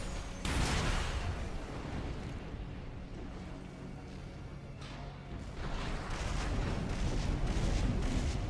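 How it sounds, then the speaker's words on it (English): Cannons firing in the video game Armored Core VI, heavy booming blasts and a sustained rumbling roar swelling and fading across the scene, loud and continuous without talk. "I'm trying to kill all these stupid little cannons."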